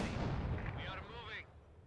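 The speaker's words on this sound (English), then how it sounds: "Oh, this mortar is murdering them." Mortar artillery fire in a video game booms through a short burst of rumbling detonations, with distant explosive texture and a voice speaking over it.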